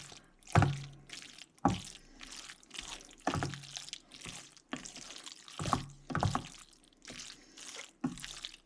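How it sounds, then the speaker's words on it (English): A spoon stirring a creamy ground beef, green bean and macaroni dish in a pot, giving a series of wet, squelching scrapes at an irregular, unhurried rhythm, quiet and close with no other sound. "Stir it up just a little bit more here."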